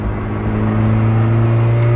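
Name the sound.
Lotus Elise S1 engine accelerating, Janspeed exhaust popping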